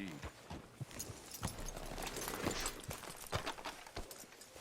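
Horse hooves clip-clop at a walking pace in a western town outside a sheriff's office in a video game, a steady run of light knocks under ambient noise with voices speaking.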